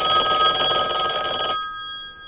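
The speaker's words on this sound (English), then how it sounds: "Greg Kunkel's phone rings" Greg Kunkel's telephone rings with a bright, trilling electronic tone over a dense noisy wash. After a second and a half the noise drops away and the ring pulses on, fading gradually.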